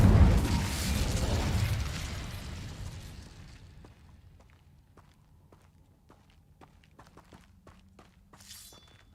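A fire spell cast in the video game Hogwarts Legacy flares up as a loud whooshing burst that fades over about four seconds, followed by quiet, evenly spaced footsteps.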